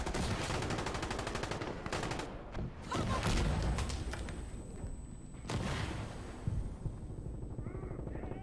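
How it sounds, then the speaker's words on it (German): Smoke artillery barrage in the shooter game Insurgency Sandstorm, heard as dense bursts of gunfire and heavy thumping explosions that roll on continuously, loud and chaotic, with a thin high whine that lingers. "Oh, die schicken Nebelartillerie."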